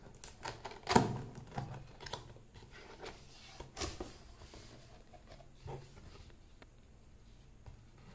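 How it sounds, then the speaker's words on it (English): A cardboard box with a cut seal being handled and opened, with irregular taps, scrapes and rustles, one sharper knock early on, close and fairly quiet, with no voices. "So this is a box, I just cut the seal."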